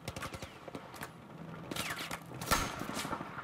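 Gunfire in a Battlefield 4 campaign battle: repeated sharp shots in quick bursts over a busy combat background, with a louder burst near the end.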